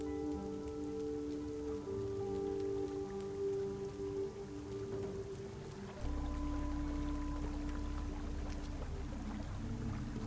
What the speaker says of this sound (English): We're just standing here to shelter from the rain.